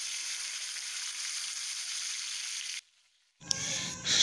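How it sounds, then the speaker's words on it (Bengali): Prawns frying in hot oil in a frying pan give a steady, close hiss and sizzle, which cuts out briefly and then returns with a louder, sputtering crackle. "তেলটা গরম হতেই তার মধ্যে আমি চিংড়ি মাছগুলো ছেড়ে দিচ্ছি।"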